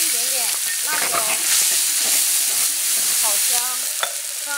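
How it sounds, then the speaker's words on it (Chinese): Eggs fried in hot oil in a wok are shaken and stirred with a little chili, giving a steady sizzle with scraping stirs, while voices talk briefly over it. "鸡蛋煎好了，现在给它摇起来"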